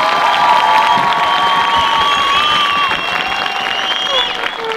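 A large crowd, many of them children, applauds and cheers steadily at a student event in Chios, a loud continuous wash of clapping with whistles and shouts on top.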